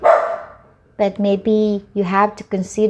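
A dog barks close by in a rapid run of loud, harmonic barks and yips while a person keeps talking.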